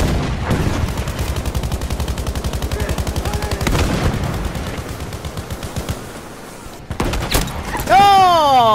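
Sustained machine-gun fire in the video game Battlefield V, a loud rapid rattle of shots with heavy bursts and explosions, followed by a rising whine at the end.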